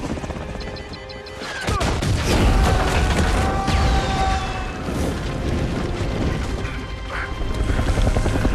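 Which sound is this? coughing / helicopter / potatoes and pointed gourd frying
helicopter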